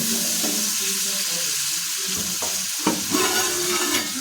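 Mixed-vegetable labra being stirred with a ladle in a pan, a soft continuous sizzle with scraping strokes and a few sharper knocks near the end.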